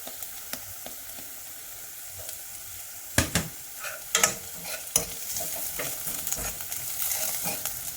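Garlic sautés with slightly browned onions in a pan, making a soft, steady sizzle. Several sharper scraping taps of stirring occur close by.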